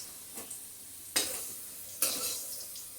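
Potatoes fried with eggs are lifted from hot oil in a home kitchen. Soft sizzling runs under two sharp scraping, clinking stirs, with faint utensil sounds in between.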